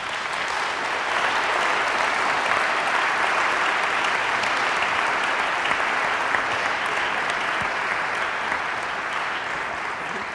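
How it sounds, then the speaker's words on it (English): Sustained, dense applause from an audience at a public lecture for the panelists, holding steady and full for about ten seconds. "Everyone, a round of applause for our panelists."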